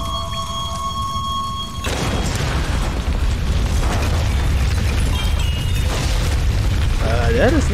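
A loud, deep explosion booms through a cave in the 2013 Tomb Raider video game, a sudden blast followed by a long, heavy rumble of debris and echoing noise that fills the space.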